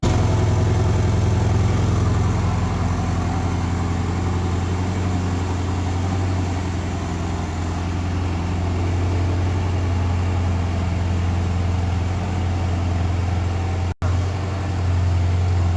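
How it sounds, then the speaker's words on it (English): A 2020 Porsche Boxster turbocharged engine idles with a steady, deep hum and low throb, close and constant, with a brief dropout near the end. "you can easily hear the roar of this car"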